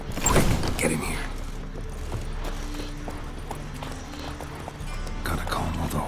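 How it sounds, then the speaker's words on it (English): Horses in The Witcher 3 shuffle and clop their hooves close by, with a short snort or whinny and faint game mechanisms underneath, while voices speak briefly. "Gotta calm all the horses before they wake the guards."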